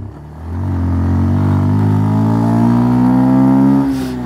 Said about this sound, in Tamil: எட்டாயிரம் ஆர்பிக்கு மேலே ஏறுறதுக்கு அப்புறமும் வண்டி ஏற மாட்டேது பாருங்க, சம்திங் ராங்